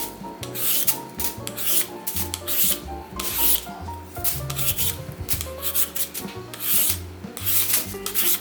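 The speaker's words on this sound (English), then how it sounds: "I'm just gonna peel my cucumber." A cucumber is peeled by hand in a home kitchen, giving repeated close scraping strokes in an uneven rhythm with short pauses between passes.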